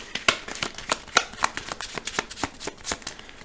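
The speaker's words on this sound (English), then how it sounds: "Shuffle noises, more shuffle noises." Playing cards are shuffled close up in a rapid series of crisp riffling snaps and slaps, irregular in rhythm, with no talking.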